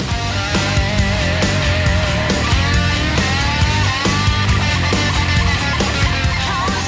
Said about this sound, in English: That pull-off guitar.